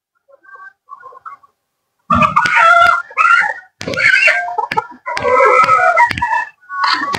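Chickens at a poultry farm during catching, squawking and crowing loudly in repeated bursts close by, after a few faint calls at the start, with no talking.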